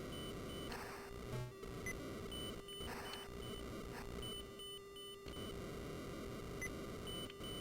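ColecoVision game audio plays simple electronic beeps and tones in repeated short bursts over a buzzy, noisy background, moderately loud, with no voices.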